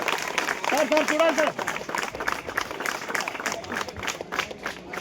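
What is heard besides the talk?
audience clapping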